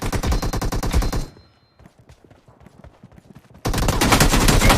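Rapid automatic gunfire from a PUBG Mobile deathmatch: a loud, dense burst of shots, a short lull with scattered faint pops, then another sustained close burst.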